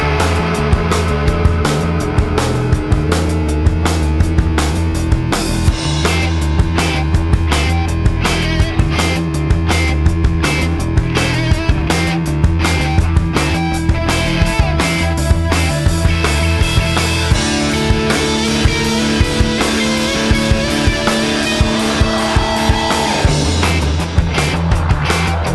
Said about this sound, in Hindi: चलो भाई अब एक मिशन फरारी करके राइड है, वो भी रोलर कोस्टर है, इनसाइड इंडोर रोलर कोस्टर